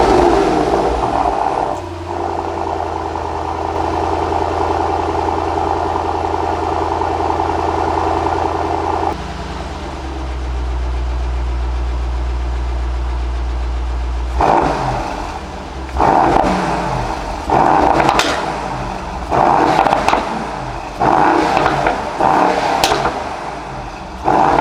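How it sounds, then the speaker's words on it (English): A 2019 Mercedes-AMG GT 63S 4MATIC+ four-door coupe in Sport Plus mode with the exhaust open, engine cold, idles with a deep steady rumble, then a drop in tone before a series of sharp revving blips bark loudly near the exhaust. "let's hear that exhaust of this Mercedes-AMG 4-door coupe"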